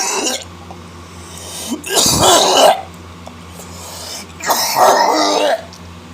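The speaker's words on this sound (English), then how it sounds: "Told you I was gonna cough" Two harsh bursts of coughing after smoking, each lasting under a second and separated by a quiet pause, close and loud over a faint low hum.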